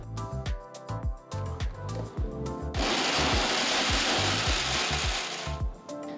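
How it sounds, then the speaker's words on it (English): An electric kitchen grinder coarsely grinds 50 grams of figs for a dry fruit burfi, with short stuttering pulses at first and then a sustained loud whirring grind, close up and without talk. "I'm just going to coarsely grind them."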